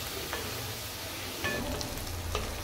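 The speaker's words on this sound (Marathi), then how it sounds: "आता हे मी चांगले मिक्स करून घेते" Onion, tomato and capsicum fry in a pan for egg rice while being stirred, a steady close sizzle broken by a few scraping strokes of a spoon, with no voices.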